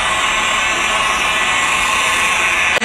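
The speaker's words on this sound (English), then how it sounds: "the fire alarms are literally going off" Fire alarms inside a shopping mall sound as a loud, continuous electronic tone with no break, cut off by a brief rustle at the very end.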